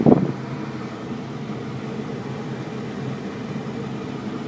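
Diesel engine of a 2001 Ford F-250 with a 7.3 litre V8 settling into a steady idle just after starting, a brief louder burst at the start then an even, low rumbling drone.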